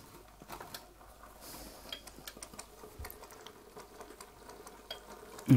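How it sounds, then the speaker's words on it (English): Chicken tikka masala sauce from a jar bubbles in a frying pan, giving a faint, steady patter of soft pops and sizzle, with a louder knock right at the end. "Now this is starting to bubble."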